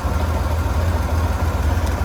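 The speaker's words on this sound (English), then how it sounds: "Beautiful running motor, meticulously detailed." A 1965 Corvair 500 Sport Coupe runs with its rebuilt 1966 140 hp flat-six, pistons bored 30 over, giving a steady low, throbbing idle. It is close and even, with no voices.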